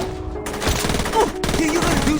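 Rapid bursts of gunfire crackle in the Saints Row video game, a dense close-up fusillade of overlapping shots with brief gaps, mixed with game sound effects and a voice.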